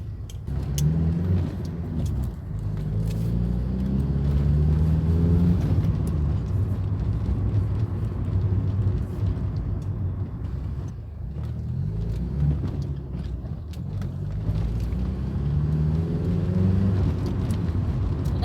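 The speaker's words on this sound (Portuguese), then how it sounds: "O ronco desse carro é muito legal, velho." A 1995 Fiat Tipo 1.6 i.e. engine roars while driving, its note rising and falling through repeated accelerations and gear changes, loud and close with no talking.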